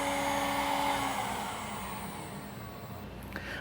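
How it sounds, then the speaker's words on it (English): A KX:24 CNC router spindle runs at idle with a steady, fairly quiet motor whine and a higher tonal hum, continuous and close, easing slightly toward the end with a faint knock near the finish. "While that spindle is running, we can have a conversation over the spindle."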